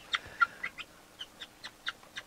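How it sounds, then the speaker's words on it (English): Small chicks and red Bourbon turkey poults peep in a series of short, high, evenly spaced calls, one bird at a time, close by with a quiet room behind them and no one talking. "We've got 3 little chicks in here."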